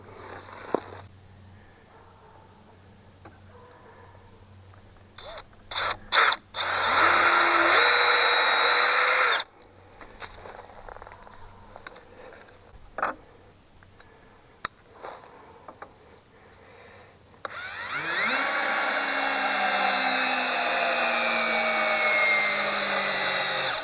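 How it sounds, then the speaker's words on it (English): A power drill bores a pilot hole into timber for screws on a raised garden bed. A few short bursts of whine are followed by two long, loud drilling runs, the last one rising in pitch. No one speaks. "So I'm going to have to do a pilot hole to get it started"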